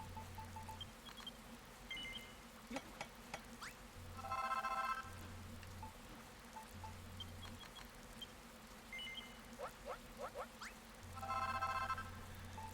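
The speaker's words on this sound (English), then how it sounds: "Oh, phone call." A telephone rings in two short bursts of electronic trilling several seconds apart, fairly faint, over a low steady hum and occasional clicks.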